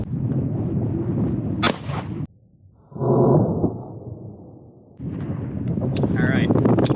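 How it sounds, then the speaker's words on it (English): A single sharp gunshot from a Glock 45 pistol firing 124 grain full metal jacket ammunition cracks loudly and briefly, with talking before it and after it. "We've got a Glock 45 with full metal jacket, 124 grain, which is what the NIJ standard is."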